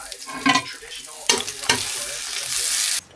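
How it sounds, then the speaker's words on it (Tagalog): A hotdog sizzles in a frying pan while it is stirred and turned, bursts of spattering and scraping over a constant close crackle that stops abruptly at the end. "And we're frying hotdog."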